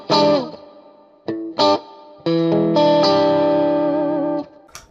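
A PRS SE Custom 24 electric guitar through a Tube Screamer overdrive plays a few short, sharp distorted stabs, then a sustained, ringing overdriven chord held for about two seconds before it cuts off.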